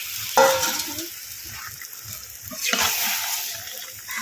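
Chicken meat poured into a hot pan with a little water and stir-fried, a sudden splashing sizzle followed by steady bubbling frying and scraping stirs, moderately loud.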